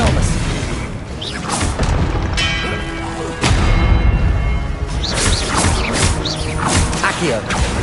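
Spell-casting in Hogwarts Legacy: loud magical booms, crashes and whooshes as a disarming spell is cast, with heavy impacts and swishing effects layered over one another, plus voiced spell shouts.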